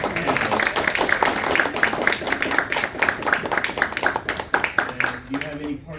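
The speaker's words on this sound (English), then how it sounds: "So, round of applause for our panelists." Audience applause for convention panelists at Worldcon 2022 in Chicago, a steady dense patter of many hands clapping at close range, with a brief voice near the end.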